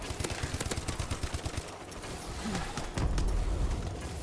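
HBR-3 rifle gunfire in Call of Duty: Advanced Warfare, a rapid automatic burst of closely spaced shots followed by a steadier rush of game noise.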